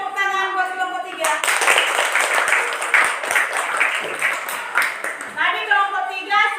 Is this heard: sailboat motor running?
no